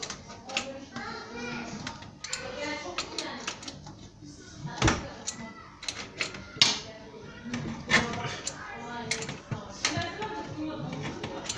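A wrench tightens a threaded fitting while installing a reverse osmosis water purifier, giving irregular metallic clicks, taps and ratcheting scrapes up close, with people talking and a voice in between.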